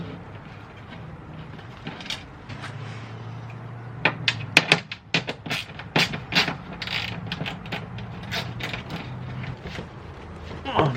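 An impact wrench with a 12 mm socket working on the exhaust of a 2017 Toyota 86 during a header install, heard as loud, close bursts of rattling hammering with sharp metallic clicks between them.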